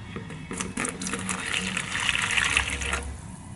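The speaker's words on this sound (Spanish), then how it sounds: "one cup of hot water, una taza de agua caliente." Hot water is poured into a cup in a home kitchen while making cinnamon rolls, a steady close gushing pour lasting about three seconds.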